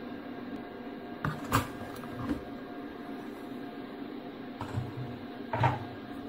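A Compact Cook Elite food processor chops Carambar candies: a fairly quiet, steady motor whir with a few brief knocking bursts as the pieces hit the bowl.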